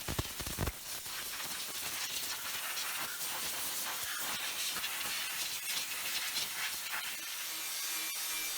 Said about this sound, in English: Bit of compressed air dries it up nicely.